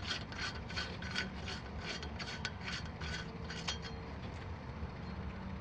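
An M12 x 1.5 lug nut spun onto a metal thread checker, giving a steady close rasping rub with a regular pulsing rhythm of faint metallic clicks.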